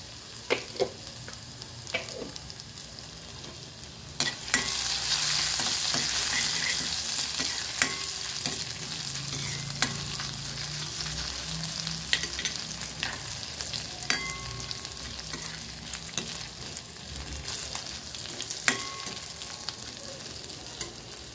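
Ginger-garlic paste, cumin and a couple of fenugreek seeds fry in hot oil with curry leaves, a steady close sizzle broken by repeated scraping strokes of a spoon stirring through the tempering.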